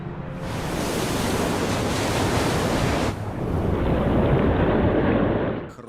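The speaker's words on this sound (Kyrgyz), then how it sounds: "Чынында эле дүркүрөгөн толкундар рифтерди кыйратуучу күчкө ээ." Thundering ocean waves pound coral reefs off the Caribbean islands, a loud, continuous roar of surf and wind that swells, dips briefly, then surges again, with no voices.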